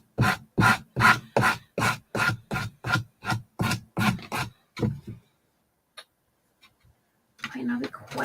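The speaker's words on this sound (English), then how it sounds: "So we're going to sand off the extra." Sanding off excess material from a craft piece, a run of about a dozen rhythmic rasping strokes, close and fairly loud, that slow and fade, followed by a short pause and then a voice.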